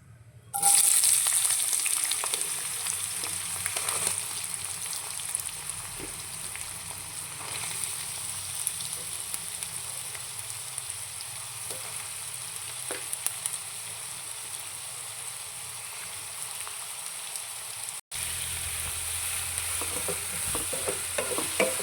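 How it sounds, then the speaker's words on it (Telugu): Onions fry in hot oil in a pan on medium flame for a potato curry, a steady close sizzle with scraping stirs throughout and a brief cut near the end. "ఆయిల్ కూడా హీట్ అయిన తర్వాత ఆనియన్స్ వేసుకోవాలి"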